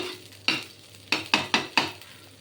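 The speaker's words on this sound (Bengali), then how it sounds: "চারটে লঙ্কা দিয়েছি দুটো কাঁচা লঙ্কা দিয়েছি আর চার কোয়া রসুন দিয়েছি এটা একটু নেড়ে চেড়ে নিতে হবে" Green chillies and garlic frying in a pan are stirred with five sharp scraping strokes over a quiet sizzle, close and fairly soft, with no talking.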